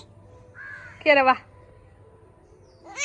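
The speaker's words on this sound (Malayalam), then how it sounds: "പിന്നെ അവിടെ കാക്ക കരയുന്നുണ്ട്" One loud crow caw rings out nearby in the middle, between a person's soft calls before and after it, over a quiet background.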